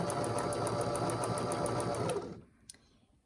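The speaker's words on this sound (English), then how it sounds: "press down on the foot and start sewing" A mechanical sewing machine stitches fabric in a fast, steady whirring run with a rapid regular clatter, then stops abruptly, leaving a single small click in near silence.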